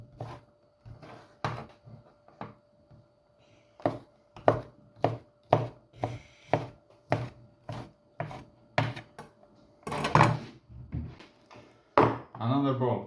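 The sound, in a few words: chopping chicken into small pieces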